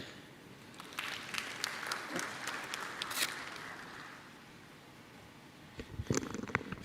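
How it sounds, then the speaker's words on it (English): Audience members at an academic and business forum clap for a speaker, a quiet patter of applause that swells, fades away, then returns briefly at the end. "Can we clap again for the Executive Secretary?"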